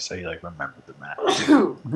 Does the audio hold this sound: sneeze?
yes